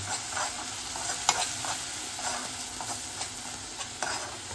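Homemade spice masala paste from the mixer frying in a pan for stuffed pomfret, a constant dense sizzle with a few light utensil clicks and stirs, close and without talk.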